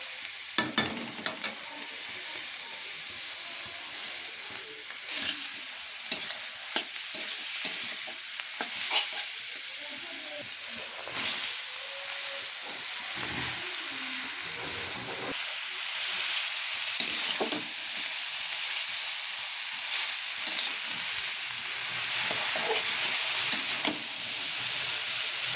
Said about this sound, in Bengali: ঠান্ডা চাউমিন করছি বাবা